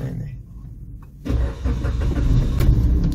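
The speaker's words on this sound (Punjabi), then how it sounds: "ਗੱਡੀ ਸਾਰੀ ਸਟਾਰਟ ਹੋ ਚੁੱਕੀ ਹੈ ਤੇ ਗੱਡੀ ਦਾ ਜਿਹੜਾ ਹੈ ਨਾ ਸਟਾਰਟਿੰਗ ਦੀ ਥੋੜੀ ਜਿਹੀ ਆਵਾਜ਼ ਆਈ ਹੈ" A Suzuki Wagon R car engine cranks and catches partway through, then settles into a close, loud running rumble.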